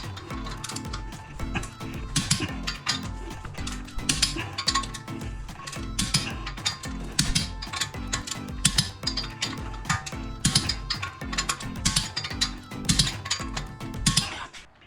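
Torque wrench tightening the wheel lug nuts on an Infiniti Q50 fitted with wheel spacers, a dense run of rapid ratcheting clicks and metallic clatter that carries on without a break for about fifteen seconds, close and fairly loud, with no talking.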